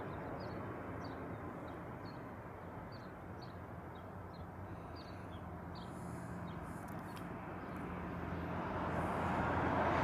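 An Air Canada airliner flies near Honolulu airport, its broad jet roar steady at a distance and then swelling louder toward the end as it draws closer, heard alone without speech.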